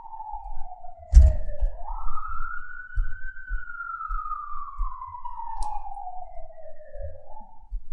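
An emergency vehicle siren passes outside, a steady wailing tone rising and falling slowly over low traffic rumble, with a brief thump early on and no talking.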